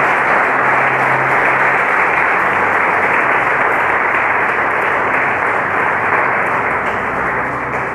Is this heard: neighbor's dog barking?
no